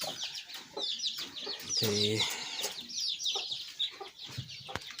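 Chickens cluck and chirp close by in a busy farmyard, with several overlapping fowl calls, one louder squawk in the middle, and a person speaking briefly.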